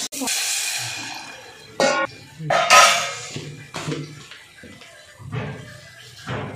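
Ridge gourd being sautéed in a pan, with scraping and clattering of a utensil against metal in irregular bursts, some louder knocks, and faint background voices.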